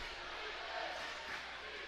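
Home crowd noise at a high school Kansas 4A substate basketball game, a steady broad roar of cheering filling the gym, with no distinct voices standing out.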